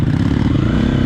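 A dirt bike engine revs loud and close as the rider opens the throttle at an off-road park in Georgia, giving a steady, buzzing roar.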